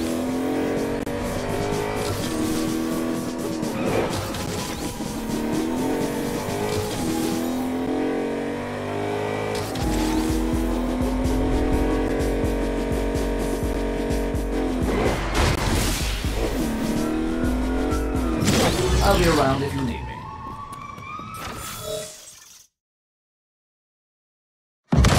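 Powerful car in the Agents of Mayhem video game roaring continuously as it drives, engine revving through gear changes with tires squealing in skids, loud and close, then cutting to silence near the end.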